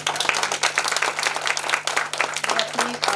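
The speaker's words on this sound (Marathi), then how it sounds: "आता एकदा जोरदार टाळ्या." Applause from an audience at an International Women's Day celebration, dense rapid clapping filling the room steadily for several seconds, with a low hum underneath.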